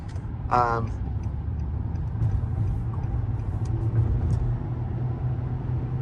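A 2007 Nissan Altima Hybrid drives along a side street, producing a steady low road and cabin rumble throughout, with a brief voice near the start.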